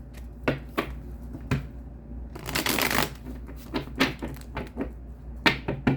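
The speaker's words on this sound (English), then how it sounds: "One last shuffle, Aquarius" Cards are shuffled in several quick bursts, crisp riffling snaps with brief pauses between, close and fairly quiet.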